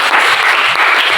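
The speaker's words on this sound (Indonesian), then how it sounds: "Tepuk tangan buat kita semua." Classroom applause from a group of students, a dense, steady clatter of clapping that fills the whole short moment without pause.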